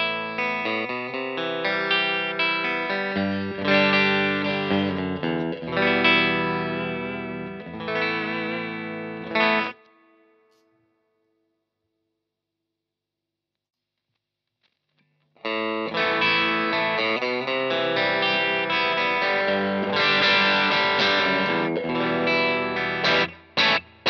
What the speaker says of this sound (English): So the Macmull S Classic straight into the Romney Pro sounds like this.